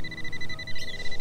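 An XP Deus II metal detector sounds a steady high electronic target tone over unknown ground, heard up close as a short sustained beep with a faint wobble, with no talking.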